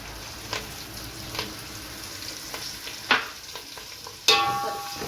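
Ingredients for fry piece biryani frying in a pan with a steady sizzle, with occasional scraping stirs and a louder hiss near the end, close and with no voices.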